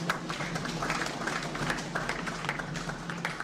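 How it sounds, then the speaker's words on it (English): Steady applause from an audience at a peace advocacy training event in Nigeria, many hands clapping in a continuous dense patter at moderate loudness. "Please, a round of applause for her."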